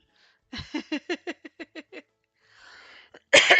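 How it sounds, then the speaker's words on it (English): A rapid run of about nine short, harsh coughs close by, a pause with faint rustling, then a louder, rougher burst at the end. "You don't have to listen to me coughing."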